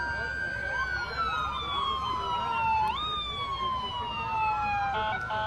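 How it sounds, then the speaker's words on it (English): A police siren wails steadily at a Christmas parade in Gadsden, its pitch sliding down and then jumping back up, loud and nearby over a low rumble of traffic. "You hear the sirens"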